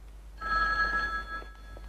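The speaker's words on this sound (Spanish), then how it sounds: "Coge el teléfono, ¿quieres?" A single brief electronic ring from a telephone, a clear tonal trill that rises out of a quiet indoor room and fades within about a second, heard alone.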